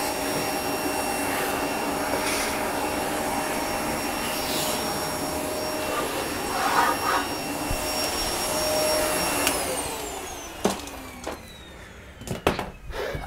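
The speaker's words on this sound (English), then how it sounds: "Probably might take the small vacuum I have to finish clearing it" A small vacuum cleaner without its brush attachment clears box dust from the packaging of a heavy board-gaming unboxing, giving a loud, steady whine that runs unbroken before cutting off into a few knocks and clatters.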